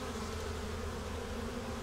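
Honey bees in a hive with a hatching queen and many nurse bees. A dense, steady drone of buzzing, close and even, with no voices.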